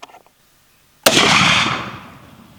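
A single loud .450 Bushmaster rifle shot, firing a 225-grain FTX load, cracks sharply after a second of near-silence. It tails off in a long, echoing rumble outdoors.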